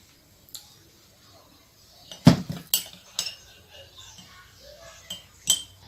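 Spoon clinking against a cup while honey is added to green tea, several sharp scattered metallic taps and chinks over a quiet background.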